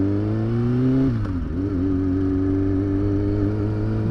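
A motorcycle with a loud aftermarket exhaust holds a steady, throaty drone at about 4000 RPM, dipping briefly in pitch before settling again; loud and continuous, recorded from the bike.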